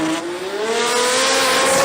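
Drag car at a sports compact drag racing meet in Brisbane squealing its tyres at launch, a loud sustained rising screech over engine roar, close and continuous.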